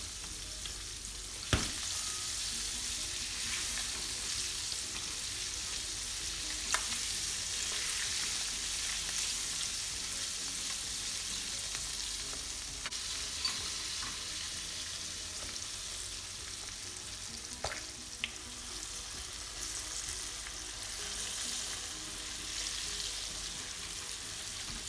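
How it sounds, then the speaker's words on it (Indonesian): Chicken livers frying in hot oil, a steady close crackling sizzle throughout with a few sharper pops and spatters, no voices. "Digoreng sampai kering ataupun setengah kering,"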